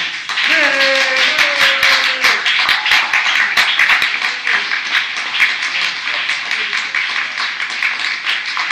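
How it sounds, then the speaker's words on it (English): A crowd applauds loudly, dense clapping that gradually thins out, with a brief shout or voice heard near the beginning. "We're going to give a round of applause to our good brother"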